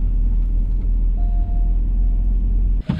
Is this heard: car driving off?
yes